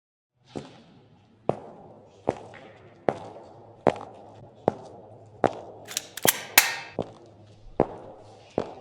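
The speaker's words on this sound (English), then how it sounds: "The click of a gun, the snap of hands, reloading." Sharp gun clicks and reloading snaps from a sound effect, about ten distinct metallic transients spaced roughly evenly and close, with a brief cluster of bright rattling clicks near the end, heard alone without talk.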